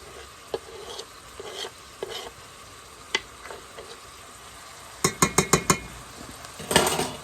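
Green onions stirred into a sizzling pan near the end of cooking, a quiet fry under scattered spatula taps and a quick burst of clinks against the pan.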